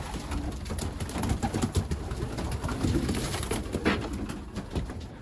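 Young racing pigeons coo steadily inside a pigeon loft, a dense, continuous chorus of soft throaty calls heard close up, with light fluttering and shuffling mixed in.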